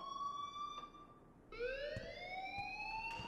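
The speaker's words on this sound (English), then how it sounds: "please turn off that alarm" A wailing electronic alarm in the video game Life is Strange, two sustained rising siren-like tones, fairly quiet and with no voices.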